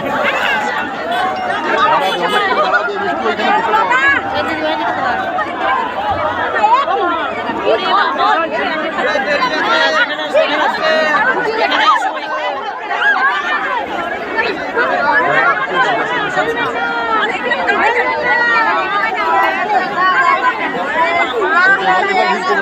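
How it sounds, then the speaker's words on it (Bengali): A busy train station crowd fills the scene with dense, continuous babble of many voices, close and loud, with shuffling movement and no single voice standing out. "দেখো এত ভিড়ের মধ্যে"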